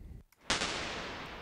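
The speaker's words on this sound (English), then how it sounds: "If we have high quality reverb such as Valhalla Vintage Reverb," A sharp hit followed by a long, smooth, washy reverb tail from the Valhalla Vintage Reverb plugin, sustaining evenly to the end after a brief silence.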